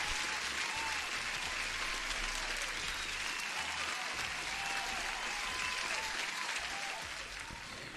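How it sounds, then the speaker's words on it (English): Applause from a crowd rolls on steadily for several seconds as one dense wash of clapping, then fades slightly toward the end, with a voice faintly underneath. "Let's give an applause."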